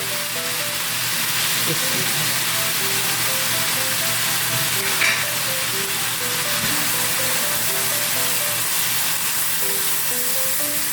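Tomatoes, onions and spices frying in a pan for a methi aloo dish: steady close sizzling fills the whole stretch, with a few faint stirring scrapes.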